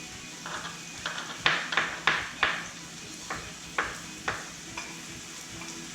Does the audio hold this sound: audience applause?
no